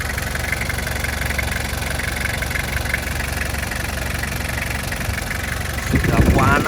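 A hot 2002 LGX diesel car engine idling, a close steady rumbling chug with a fine knocking rhythm, swelling briefly near the end as someone speaks.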